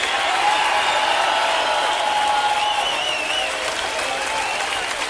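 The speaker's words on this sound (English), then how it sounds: "But the crowd called out for more." A concert crowd at a show with the Danish National Concert Orchestra applauds in a loud, steady, dense wash of clapping that holds for several seconds, calling for an encore.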